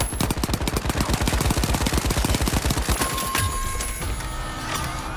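Rapid automatic gunfire from The Finals video game, a dense rattling burst of shots that fills the first three seconds before giving way to scattered impacts and game effects.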